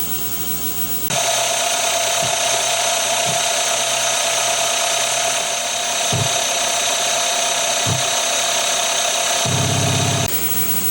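A milling machine spindle runs steadily at around 1000 rpm while a center drill works a part for a Honda Monkey four-cylinder engine's cam chain cover, giving a continuous mechanical whine with a few light knocks and a brief thump near the end.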